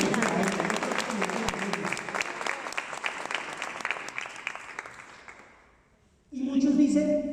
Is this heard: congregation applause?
yes